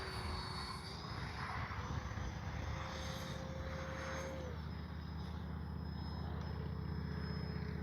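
An X-Fly Swift 2100 RC jet with a 64mm electric ducted fan flies overhead, its steady whine rising and falling in pitch as it passes, accompanied by constant wind noise and engine rumble.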